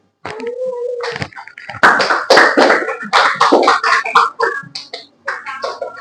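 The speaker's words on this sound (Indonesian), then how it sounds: "Silakan tepuk tangan." Children in a classroom clap their hands in uneven bursts, close and fairly loud, with kids' voices and chatter mixed among the claps.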